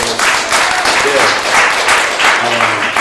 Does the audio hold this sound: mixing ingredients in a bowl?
no